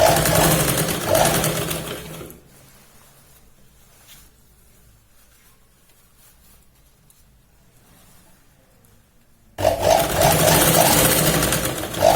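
A sewing machine stitches cloth for a Punjabi salwar suit, whirring loudly in a close, steady burst, stopping for several seconds of near silence, then starting again just as loud.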